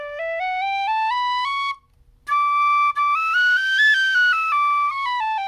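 Tin whistle played alone and close, rising stepwise through notes into the upper octave, a short break, then a higher phrase climbing and falling back through the octave transition in clean, clear tones.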